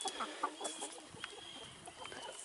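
Backyard chickens clucking nearby, soft scattered clucks and murmurs in an irregular rhythm, faint and close with no talk.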